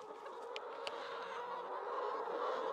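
Hens in a pasture enclosure beside an egg mobile cluck and honk in a busy, moderately close flock chorus, with a couple of sharper calls standing out.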